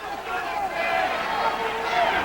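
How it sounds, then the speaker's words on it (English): A crowd at a 2006 Army versus Harvard college wrestling dual meet roars and buzzes steadily in a gym, a dense, continuous wash of cheering and shouting voices with no pauses. "the crowd is into this one now"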